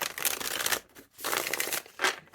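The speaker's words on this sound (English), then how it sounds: "let me shuffle" Tarot cards being shuffled by hand in two bursts of papery riffling and crinkling with a short gap between, then a brief final flick; close and moderately quiet, with no talking.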